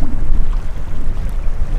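Loud, continuous wind roars against the microphone with a low, rumbling buffeting at Rainbow Lake in the Absaroka-Beartooth Wilderness.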